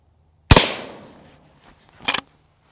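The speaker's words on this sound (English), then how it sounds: "I want to shoot a little low on that." A Henry H001 .22LR rifle fires a shotshell once, a sharp close crack with a short decaying tail, followed by a briefer metallic clatter about a second and a half later.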